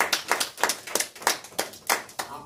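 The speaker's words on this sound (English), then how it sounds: "So give yourselves a round of applause." A few people clapping at a church service, sparse rhythmic hand claps with about a dozen distinct sharp claps at a steady pace, fairly close.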